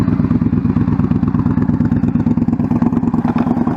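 A motorcycle engine runs close by with a steady, throbbing pulse, held at a low, even rev with the clutch slipping in the friction zone, without much rise or fall.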